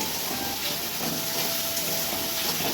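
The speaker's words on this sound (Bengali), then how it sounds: "মাছ রান্না করব বলে মশলাটা বেশ সুন্দর করে কষিয়ে নিচ্ছি" Spice paste for fish curry sizzling in a pan as it is sautéed, a dense continuous hiss, steady and close.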